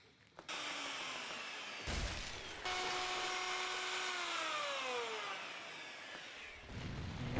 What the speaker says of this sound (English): route a little groove for it to drop in there